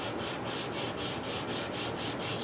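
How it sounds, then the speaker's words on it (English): A guitar nut rubbed back and forth on 220 grit sandpaper, a close, rhythmic scratchy sanding stroke repeating about four times per second, steady and alone. "I've got a piece of 220 sandpaper here"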